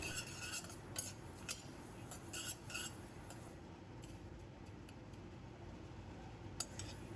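White sesame seeds dry roast in a pan, a faint steady rustle with light metallic clinks and scrapes of stirring, close but quiet, with no voices.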